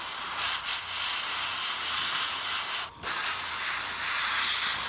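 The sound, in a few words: airbrush spraying paint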